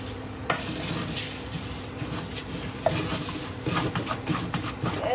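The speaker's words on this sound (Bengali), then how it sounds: "একটু ভাজা হোক" Steady crackling sizzle of food frying in a pan, close and continuous, with a few faint clinks of utensils and no talking.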